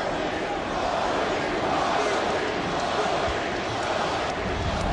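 A packed NBA basketball arena crowd roars loudly and without a break, a dense wall of cheering and shouting that stays at full volume throughout.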